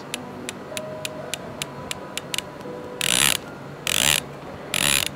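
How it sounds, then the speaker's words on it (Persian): A Zeiss LRP riflescope turret being turned close up: a quick run of crisp, evenly spaced clicks, then three louder, longer rasping ratchet bursts. "به صدای کلیک ها گوش کنید."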